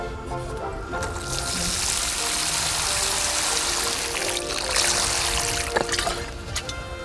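Water poured generously into a freshly dug planting hole in a garden bed, prepared with humus and ash, for perennial root plants; a steady splashing pour runs throughout with no talk.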